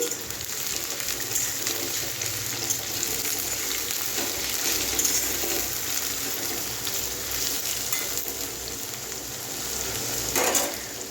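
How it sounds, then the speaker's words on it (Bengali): Sliced onion drops into hot oil for a family biryani, raising a steady, close, dense sizzle that runs unbroken throughout with no voices over it. "আমি আগে পেঁয়াজটা তেলে দিয়ে নিই। এই যে আমি পেঁয়াজ দিয়ে দিয়েছি"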